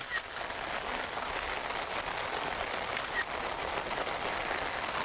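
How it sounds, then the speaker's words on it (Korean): Heavy rain falling in Cheongju, a dense, steady hiss of drops spread evenly across the whole stretch with no pauses. "비가 엄청 오네요."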